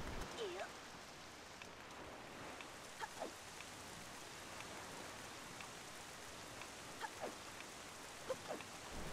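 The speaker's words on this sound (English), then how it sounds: "now it's raining." Rainfall in The Legend of Zelda: The Wind Waker keeps up a constant soft hiss for several seconds, with scattered brief chirps and small game sounds rising over it.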